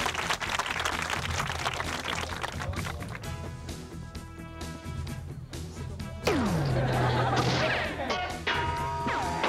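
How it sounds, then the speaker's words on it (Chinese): Studio audience applauding on a Taiwanese variety show, a loud clattering burst of clapping with crashes and sliding sound effects mixed in. "我们给品源掌声鼓励"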